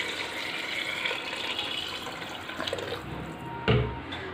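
Water pours steadily into a pressure cooker holding green beans and beef, a continuous splashing rush that thins out near the end, followed by a brief clunk.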